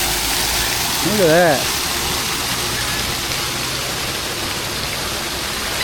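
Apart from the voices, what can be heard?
pool waterfall splashing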